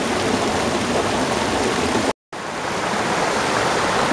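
A river flows nearby along a gravel trail, a loud, steady rushing wash of water that cuts out briefly midway before resuming.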